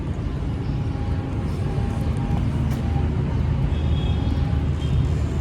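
A Yamaha R15 V3 motorcycle, with a serviced throttle body, a misfiring issue and a loose chain, idles in a steady low continuous drone at moderate loudness, with no talking.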